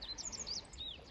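Small bird chirping outdoors near a pond where fishing birds dive, several quick high chirps in a row, faint and somewhat distant over steady low background noise.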